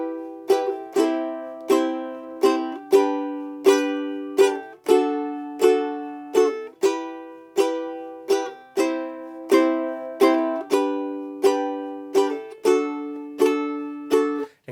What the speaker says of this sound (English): you just play that pattern on down strums most of the time. It's going to sound like this.